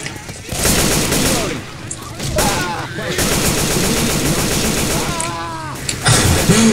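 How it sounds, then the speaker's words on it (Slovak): A player's gun firing in Left 4 Dead, with dense, continuous rapid shots mixed with other game sounds, close and loud throughout. "Feldo, teraz si asi 3-krát zase utrafil, Borka."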